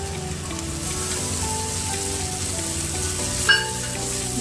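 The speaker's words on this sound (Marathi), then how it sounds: "चांगली आपण छान आधी परतून घेऊया." Drumstick leaves being sautéed in a pan over a low flame: a steady, soft sizzle and crackle runs throughout, with a faint stirring clink near the end and no one speaking.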